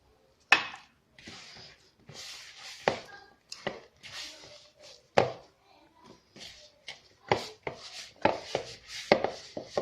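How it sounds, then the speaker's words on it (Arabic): Pizza dough kneaded by hand on a surface, heard as irregular soft slaps, thumps and squelching rubs that come close and fairly loud, with short quiet gaps between them. "دائما نفس الطريقه ونعجنها، ندلكها"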